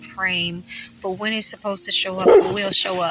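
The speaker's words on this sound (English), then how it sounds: "That's my dog." A dog barks and yips in short bursts in the background while a person keeps talking over it at close range.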